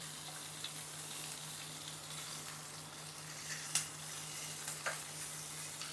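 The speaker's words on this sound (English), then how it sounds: "we're just going to seal it and keep turning it and turning it over" Pieces of oxtail sear in a hot pan with a soft, even hiss, broken by a few quick scrapes and knocks as they are turned over.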